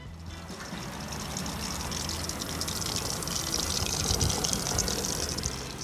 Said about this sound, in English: It's important not to overcrowd the wok, so only fry a few at a time.